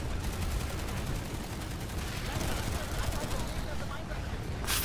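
Dense, continuous bursts of gunfire rattle throughout, steady and loud like rapid automatic shooting in the video game Planetside 2.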